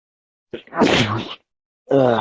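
A sharp sneeze bursts out close by, a quick intake followed by an explosive release, and then a voice speaks briefly.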